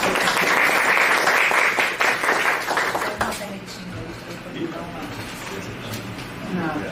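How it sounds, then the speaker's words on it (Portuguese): An audience at a panel session of an academic communication event applauds the panel, with loud dense clapping for about three seconds that then fades into a quieter room with voices and movement. "Uma salva de palmas para a nossa mesa."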